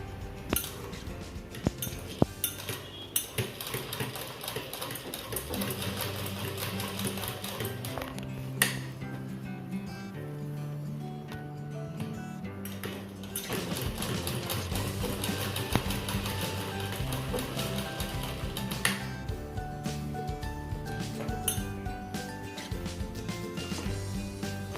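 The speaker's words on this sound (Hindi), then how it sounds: "ये जो बेल्ट है वो मैं इस तरह से इधर सी लेती हूँ।" A sewing machine stitches the belt onto a homemade velcro fabric mask in short runs of rapid clatter, with pauses and small clinks between the bursts, close by and fairly quiet.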